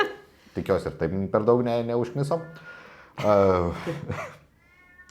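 A house cat meows in the background while a person speaks close to the microphone, its calls brief and partly buried under the talk.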